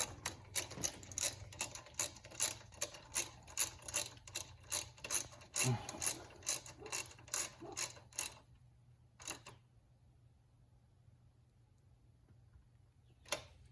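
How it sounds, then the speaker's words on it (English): A ratchet with a 10mm socket tightens an alternator bolt on a 2006-2011 Honda Civic, giving a rapid run of close, dry ticking clicks for about eight seconds, then a pause and a couple of isolated clicks, with no talking. "I believe it's still same size of socket. It's a 10mm."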